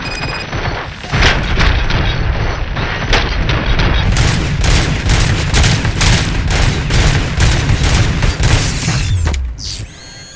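Gunfire in the video game RoboCop: Rogue City: a sustained burst of rapid, loud, close shots with mechanical clatter, running for several seconds before stopping abruptly.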